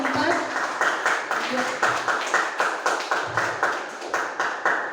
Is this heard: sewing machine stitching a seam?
no